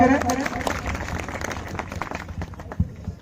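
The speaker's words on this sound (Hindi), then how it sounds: "जोरदार ताली से इनका स्वागत करें" Audience clapping at a community gathering of a tribal youth organisation, welcoming a guest to the stage; steady applause with crowd noise and some voices mixed in, fading slightly toward the end.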